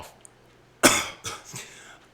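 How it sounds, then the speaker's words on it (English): A man on a football podcast gives one sharp, loud cough followed by two smaller coughs, close to the microphone, with no talking over them. "Cough."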